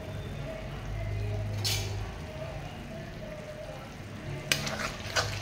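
Spoon stirring turmeric and spices into a pan for spicy chicken rassa, a steady frying sizzle with a couple of sharp clinks of utensil on metal, while someone speaks over it.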